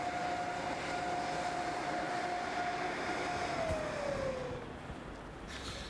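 Passenger train from Moscow to the Kaliningrad exclave slowing to a stop at a Lithuanian station, a steady rumble with a long high squeal of braking wheels that drops in pitch before fading.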